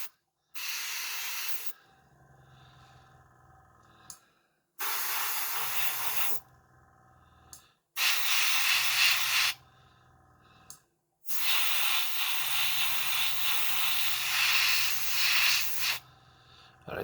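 An airbrush sprays paint in four separate bursts of steady hiss, each lasting one to four seconds, close to the microphone. A low compressor hum runs in the quiet gaps between bursts.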